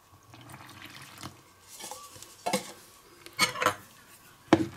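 A spoon scrapes and knocks against a bowl in a few irregular bursts as thick, wet sourdough starter of rye flour and water is stirred, fairly close and quiet.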